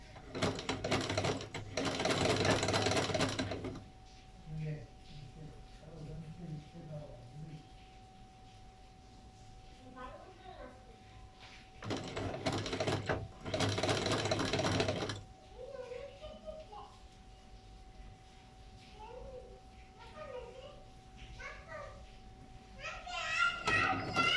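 A sewing machine stitches folded fabric in a cutting and stitching lesson, running in two loud bursts of a few seconds each. Quieter talking fills the gaps between the bursts.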